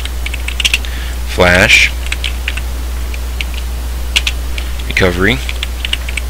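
Keys clatter on a computer keyboard as a fastboot command is typed, in short bursts of clicks, while someone talks over them at close range.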